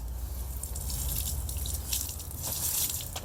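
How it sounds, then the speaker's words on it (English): Plain water is poured onto Black Series Space insulation, splashing and trickling off in an uneven, close, continuous patter. "So regular water. You can see it kind of beads up and runs off."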